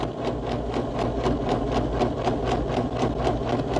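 A sewing machine runs steadily while top stitching close to a fabric edge, its needle thumping in an even rapid rhythm with a continuous motor hum, loud and near with no talk.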